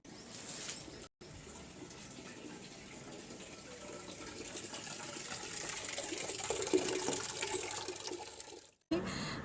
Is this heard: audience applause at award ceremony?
no